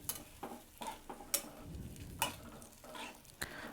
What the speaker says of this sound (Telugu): ఈ ఆయిల్లోనే చింతపండు గుజ్జు బాగా ఉడకాలి